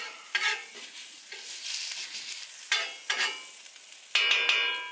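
Onions seasoned with salt and tri-blend pepper begin cooking on a flat griddle, with soft, quiet sizzling broken by several brief bursts of spatula scraping and crackle.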